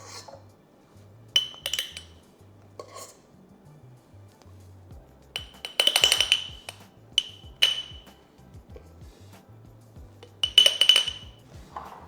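A spoon scooping key lime mousse into a layered dessert glass, with scattered clinks and taps of metal on glass in short clusters amid quiet gaps.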